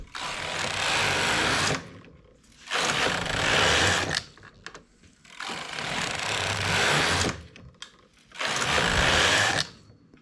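A knitting machine carriage pushed across the needle bed row after row: four long rasping, whirring passes of about two seconds each, separated by short pauses, loud and close with no voices.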